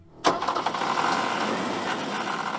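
A car engine that has just dried out after being soaked turns over and catches with a sudden loud burst. It then settles into a rough, steady idle close by, with no talk.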